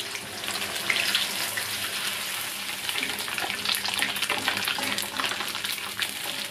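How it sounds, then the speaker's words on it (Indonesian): Anchovies frying in hot oil in a wok, a dense continuous sizzle and crackle with some stirring, close and loud; no talking. "Mula-mula kita akan goreng ikan bilis."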